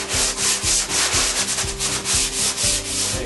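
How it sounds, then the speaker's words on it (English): Steady rhythmic sanding, a sponge rubbed back and forth in even strokes, close and fairly loud with no talking. "We'll be using a fine, extra fine sanding sponge that we've been using through the project."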